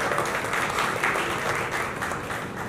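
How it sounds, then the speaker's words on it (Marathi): An audience at a Marathi film trailer launch bursts into applause, a dense, even wash of many hands clapping that holds steady throughout without talk over it. "जोरदार टाळ्या"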